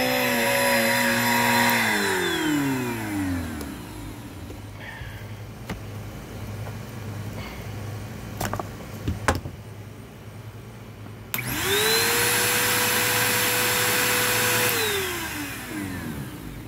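An upright vacuum cleaner with a freshly unclogged main hose runs with a loud whining motor that winds down and goes quiet, a few clunks follow, then it spins back up to a steady roar.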